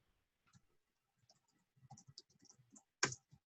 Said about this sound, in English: just typing up for people who are just getting in here